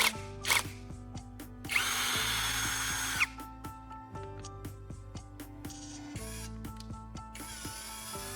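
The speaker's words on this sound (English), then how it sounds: "So, I'll attach the wrench to the drill." A power drill fitted with a wrench turns battery caps: short bursts of whirring motor and ratcheting clicks, with a louder sustained spin in the middle, close and clear between brief pauses.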